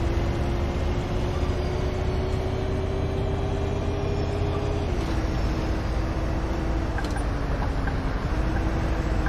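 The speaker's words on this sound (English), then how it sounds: "Did you know that this bus has a Blue Tech diesel engine?" A city bus with a Blue Tech diesel engine of 210 kilowatts runs in the Bus Simulator 2018 video game, a steady loud drone with a low tonal hum that dips slightly twice as it shifts.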